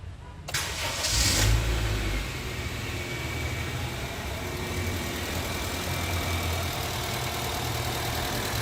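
A 2017 Honda Brio Satya engine starts and settles into a steady, smooth idle just after an oil change, heard up close and continuous with no talking.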